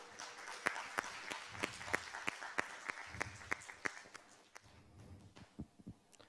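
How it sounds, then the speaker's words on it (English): An audience at a medical competition grand finale applauds doctors with fairly sparse, distinct claps that ring out individually, thinning and fading toward the end, with a voice faintly audible underneath. "I would like everyone in this room to give a round lot of applause to these doctors"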